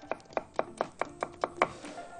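Vegetables chopped with a knife on a board for a mixed stuffed-vegetable dish, eight crisp, evenly spaced knife strikes in quick succession, close and clear with no talk.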